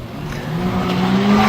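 Banger race cars tear around the Bovingdon track in a 2008 meeting, engines straining and revving upward with a rising tire squeal, loud and close, with no voices over them.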